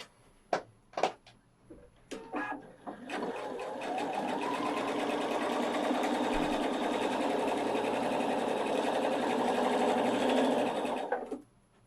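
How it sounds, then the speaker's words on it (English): A Pfaff 710/720 sewing machine stitching forward and in reverse on a straight stitch, running as a steady close mechanical whir for about eight seconds after a few clicks and taps. "sew in reverse by sewing forward and forward and backward a couple of times"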